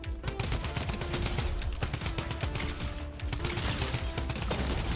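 Drum gun in Fortnite firing long rapid bursts of automatic gunfire, loud and close, with dense overlapping shots and mechanical clatter filling the whole stretch.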